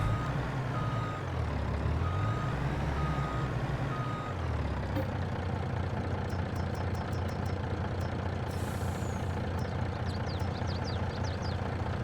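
A truck backing up beside a farm trailer, its steady reversing beeper repeating over the low rumble of an idling diesel engine, with a short squeal near the end.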